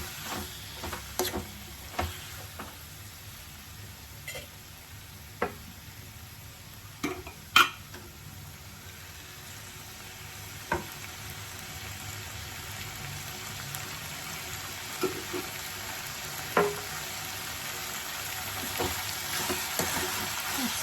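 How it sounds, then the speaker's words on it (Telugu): Tomatoes and salt are stirred into a frying egg curry with menthi, giving a soft steady sizzle. Faint scrapes and light clinks of a spoon against the pan recur throughout at low volume. "ఒకసారి కలుపుకోవాలండి."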